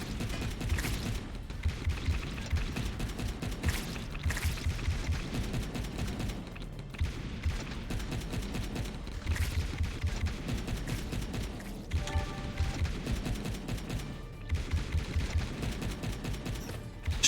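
Rapid continuous gunfire in the side-scrolling video game Wall World, a dense mechanical rattling stream of shots running steadily throughout, fairly quiet with no talking.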